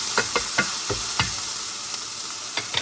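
White scallions and garlic sizzle in oil in a pan for lettuce chicken wraps, a constant hiss punctuated by a series of distinct spoon knocks and scrapes as they are stirred.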